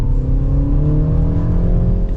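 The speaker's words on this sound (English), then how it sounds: "Very good throttle response from the engine" A 2025 Mini Countryman S ALL4 engine accelerates during a test drive, giving a loud, steady, close drone with rising harmonic tones and no talk.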